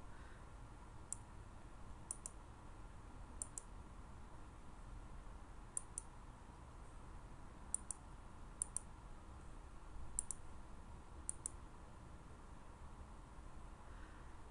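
Sharp, faint computer mouse clicks, mostly in quick double taps, spaced every second or two over a steady low hiss while LED sign programming software is operated.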